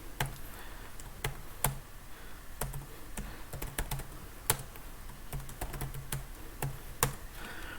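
Typing on a computer keyboard while writing code in Excel's macro editor, with crisp irregular keystrokes and short bursts of clicks at close range, no voices.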